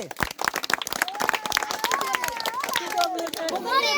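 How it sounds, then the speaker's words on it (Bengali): Audience claps at an outdoor local women's game of cutting roast chicken during a prize-giving, a burst of sharp, quick, uneven hand claps with excited voices and children's chatter rising over them toward the end. "সবাই জোরে একটা হাতে তালে"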